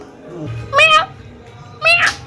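A cat meows twice, close and clear, about a second apart, over faint background noise and a low voice.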